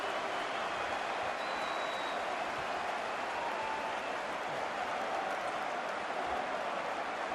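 Dense roar of football fans in a stadium crowd after a goal in a Liverpool versus Manchester City Community Shield match, a steady wash of cheering and applause filling the whole stretch without a break.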